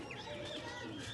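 A pigeon coos on a rooftop, a soft, steady murmur with a few faint chirps of other birds mixed in, quiet and slightly distant throughout.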